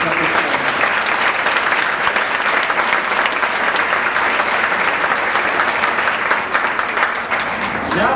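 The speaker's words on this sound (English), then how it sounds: "So a big round of applause for Mr." Sustained audience applause for Mr. Shoup at the North Webster Mermaid Queen of Lakes pageant, a full, even roar of clapping from a large crowd lasting around eight seconds, with faint voices beneath.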